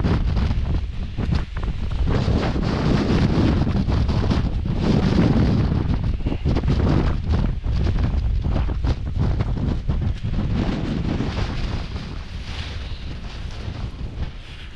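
Strong wind on an exposed spot in the Lake District buffets the microphone in a loud, continuous roar with surging gusts, easing slightly toward the end.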